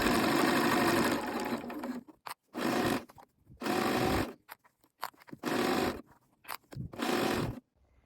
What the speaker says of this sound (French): Donc vous assemblez à 1 cm du bord et puis vous surjetez.